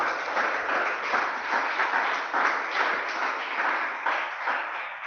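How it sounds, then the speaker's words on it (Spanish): A church congregation applauds in steady rhythmic clapping that pulses together throughout, moderately loud and close, with no voices standing out. "Damos un aplauso al Espíritu de Dios."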